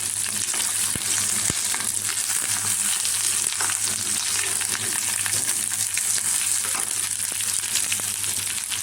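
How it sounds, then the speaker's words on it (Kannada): Bitter gourd fries in hot oil with a tempering in a pan, making a loud, continuous close-up sizzle with faint stirring, and nobody speaks. "ಇವಾಗ ಚೆನ್ನಾಗಿ ಫ್ರೈ ಮಾಡೋದು."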